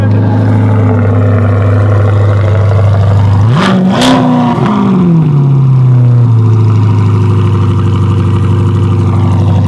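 A Corvette idles loudly through a newly installed exhaust dump, then gets one sharp blip that rises and falls. It settles back to a deep, rumbling idle, close up.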